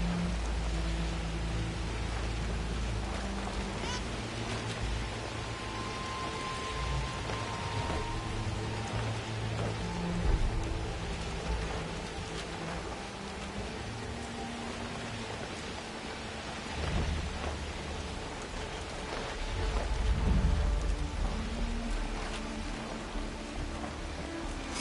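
Heavy rain and rolling thunder in the video game Horizon Forbidden West, with a steady downpour hiss throughout and low thunder rumbles swelling near the middle and again toward the end, no talking.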